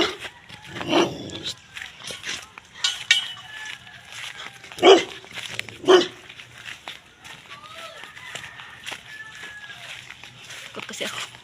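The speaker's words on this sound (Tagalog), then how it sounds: "May aso din yan." A dog barks a few times, sharp single barks spaced apart, with people talking around it.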